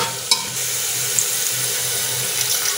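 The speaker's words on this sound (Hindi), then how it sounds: "अब थोड़ा सा पानी को ऐड कर रहे हैं, क्योंकि मसाला अब बैठने लगा है इसलिए।" Water runs steadily into a pan of chana aloo masala, a soft even hiss with faint sizzling and a small clink near the start, no voices.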